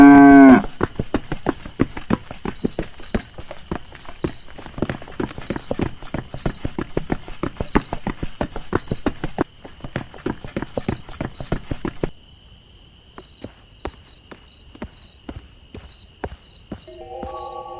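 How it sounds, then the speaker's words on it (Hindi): Many hooves clop rapidly and rhythmically on the ground as cows run, loud and close, then thin out to a few scattered hoofbeats over a faint steady tone. "वो पैरों की आहट नहीं थी, बल्कि खुरों की जमीन पर पड़ने वाली थाप थी।"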